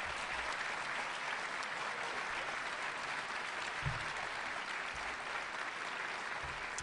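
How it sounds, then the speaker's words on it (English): An audience at a city's State of the City speech applauds participating students: dense, sustained clapping from a large crowd fills the whole stretch at an even level, heard from a distance. "let's give them all a round of applause again"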